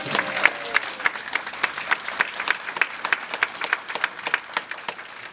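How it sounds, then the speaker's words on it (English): A crowd at an interfaith solidarity march in Los Angeles applauds cadets in light blue uniforms, steady dense clapping with sharp individual claps standing out, moderately near and sustained throughout. "Give them a round of applause"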